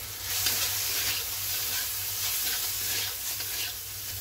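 Seasoned chicken with soy sauce, salt and black pepper sizzles steadily in a hot pan while being stirred and mixed, a continuous close frying hiss with soft scraping strokes and no talk.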